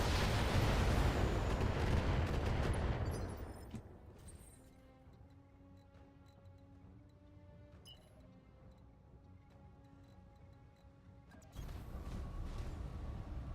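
BattleTech mech weapons fire in a heavy, roaring barrage that fades out. A quieter humming stretch follows, then another loud burst of fire near the end.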